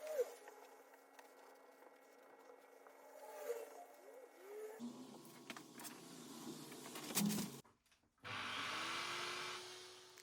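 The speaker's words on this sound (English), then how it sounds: "I'd read somewhere that it's best to hoover up as you go along with this stuff" A vacuum cleaner hoovers up cut insulation in a workshop, switching on near the end with a steady loud whir after quieter handling noises and speech.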